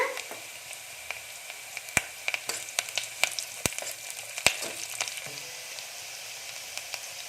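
Garlic frying in oil for brinjal tamarind curry, a faint continuous sizzle with crackling pops and a few sharp clicks, no speech.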